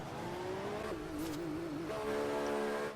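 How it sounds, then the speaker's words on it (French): Racing cars in a GP3 race in the USA, a Lotus sweeping past a McLaren: a steady engine whine that drops in pitch, wavers, then climbs again as one car overtakes, loud and continuous with no talk. "Et la Lotus qui va passer sans résistance de la McLaren."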